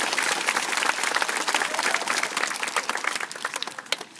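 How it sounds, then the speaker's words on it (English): A round of applause at a learning lab dedication and ribbon-cutting ceremony, a modest crowd clapping steadily, with individual claps audible and thinning slightly toward the end. "So a big round of applause for them"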